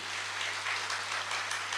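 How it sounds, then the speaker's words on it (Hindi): An audience claps steadily at a gathering, dense and fairly faint, continuing for the whole short stretch with no voices over it. "एक बार जोरदार तालियां आप सभी लोगों के लिए"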